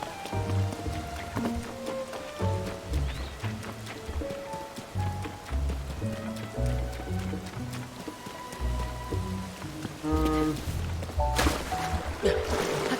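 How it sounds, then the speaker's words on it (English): Rain falls steadily in Zelda: Tears of the Kingdom as a soft, continuous patter beneath plucked game music notes, growing briefly brighter and louder near the end. "Does it have to not be raining anymore?"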